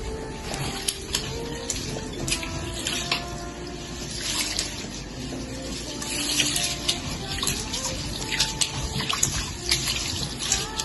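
Rice soaks in a pot as water sloshes and trickles while the grains are swirled and rinsed by hand, a steady wet washing sound up close with small splashes.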